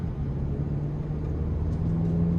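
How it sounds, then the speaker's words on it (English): A 2025 Chevy Colorado ZR2 truck on the road at the start of a test drive, giving a steady low engine and road rumble with a constant hum, heard from inside the cab with no talking. "let's go ahead and take this 2025 Colorado ZR2 out on the road for a test drive"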